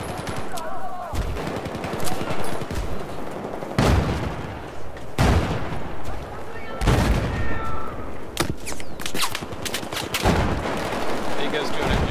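Battlefield 4 multiplayer gunfire, loud bursts of automatic weapons and heavy booming shots recurring throughout, with players' voices chatting over the game sounds.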